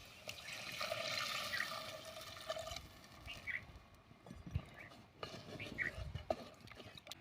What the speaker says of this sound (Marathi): आता यामध्ये आपण पाणी टाकून घेऊया.